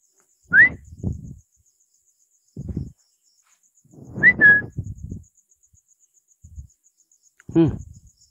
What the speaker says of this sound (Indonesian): Ada yang dengar nggak balasan siulan itu?